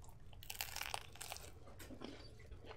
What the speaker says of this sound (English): I bite into the bread by the microphone.